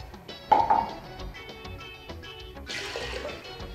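Four cups of water poured into a pot of parboiled rice, a steady splashing pour that swells after an initial gush and keeps running at moderate loudness.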